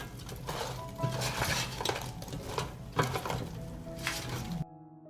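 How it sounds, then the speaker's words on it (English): Meat and potatoes being stirred mid-cook in an air fryer basket: irregular metallic scrapes and clinks at close range that stop abruptly near the end. "I'll stir."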